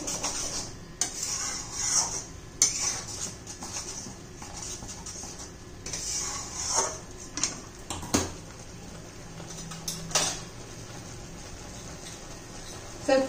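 Tamarind candy mixture stirred steadily in a pan over a medium gas flame, with soft scraping and occasional clinks of the spoon against the pan and a faint sizzle, repeating in an irregular rhythm close by.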